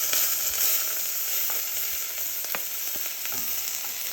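Ginger and garlic fry in a few tablespoons of hot cooking oil in a thick-bottomed saucepan for a chicken curry, giving a steady close sizzle with small crackles and pops throughout.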